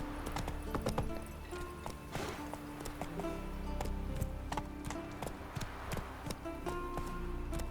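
Roach the horse's hooves clip-clop steadily in The Witcher 3, a continuous rhythmic patter of close footfalls over ambient game sound with sharp broadband transients throughout.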